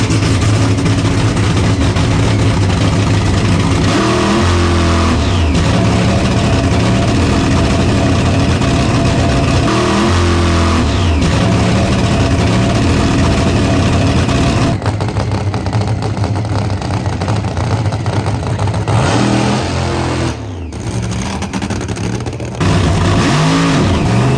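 A race car on a racetrack doing a burnout, its engine roaring loud and close with repeated throttle surges and drops, then a harsher, strained stretch with a brief dip before the revs climb again.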